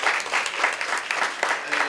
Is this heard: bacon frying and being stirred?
no